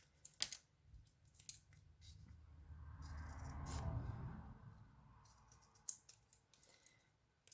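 Scissors snip through paper while cutting out stars, with a cluster of crisp cuts early on, a duller rustling stretch in the middle, then more scattered snips, quiet and close.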